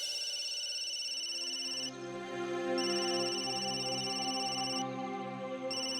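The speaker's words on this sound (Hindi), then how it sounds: "मेरा फोन।" A mobile phone ringtone plays loudly and steadily in a repeating electronic melody for the whole stretch, with a brief break partway through and no voices.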